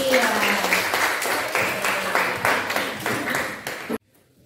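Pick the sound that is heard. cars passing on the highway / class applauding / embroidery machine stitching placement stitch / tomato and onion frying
class applauding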